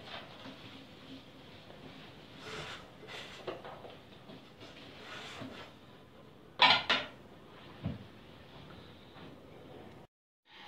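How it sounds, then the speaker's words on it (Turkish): Dishes being washed in a home kitchen: quiet running-water hiss with occasional clinks of plates and cutlery, including a sharper clatter of knocks partway through. "Bulaşıklarımı ben tertemiz yıkadım."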